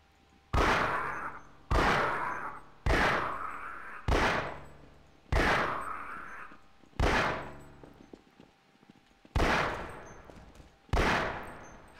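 Gunshots from the video game Half-Life, eight loud, sharp blasts fired at roughly even intervals of about a second and a half, each one ringing out with a short decaying tail, with no talking.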